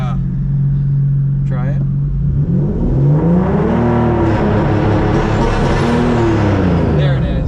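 A turbocharged 2010 Nissan 370Z Nismo accelerates from inside the cabin, its engine note climbing through rising revs and shifting pitch, loud and close, with a person speaking briefly over it.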